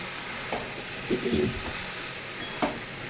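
Green chilies fry in a hot pan with a steady sizzle, while a spoon scrapes and stirs in a few short, distinct strokes close by.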